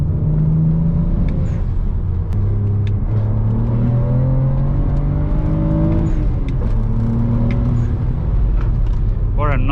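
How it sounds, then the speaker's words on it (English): A BMW 335i engine through a VRSF aftermarket exhaust, deep and throaty, revving and shifting as it accelerates, loud and close throughout, with a brief squeal near the end. "nice tone from the VRSF exhaust."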